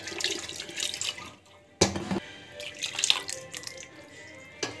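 Water is poured into a pot of dhaba-style dal in several splashing bursts of varying strength, separated by short quieter gaps.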